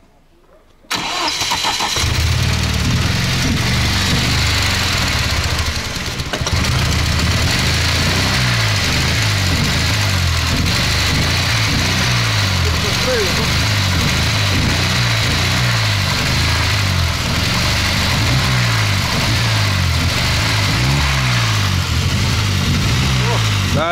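A misfiring off-road vehicle engine cranks and catches after about a second of quiet, then settles into a loud, rough, lumpy idle that pulses steadily for the rest of the clip, with voices faintly underneath.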